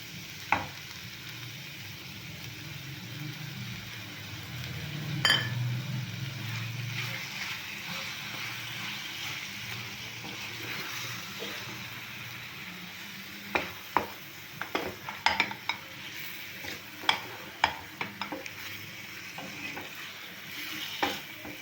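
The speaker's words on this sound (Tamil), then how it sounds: "இப்போ நம்ம இந்த பக்கம் தக்காளி பியூரி ஊற்றிக்கலாங்க." Tomato puree pours into frying masala in a pan, bringing a soft sizzling hiss, then a spoon scrapes and stirs in quick clusters of knocks toward the end.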